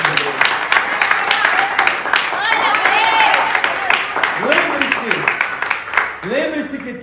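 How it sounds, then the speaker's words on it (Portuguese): A church congregation claps hands in praise, a fast, dense rhythmic patter of many hands filling the room, with a voice speaking and calling out over the clapping throughout. "Bate as palmas para o Senhor Jesus."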